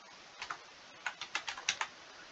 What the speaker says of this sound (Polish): Wpisujemy imię